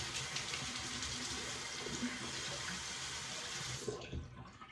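Tap water runs steadily into a sink to rinse a razor during a wet shave, a close, continuous splashing hiss that cuts off near the end as the faucet is shut.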